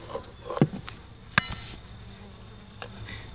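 Honey bees buzz around pollen-trap beehives in a faint, intermittent hum, broken by a few sharp clicks and knocks from handling the hive. No one speaks.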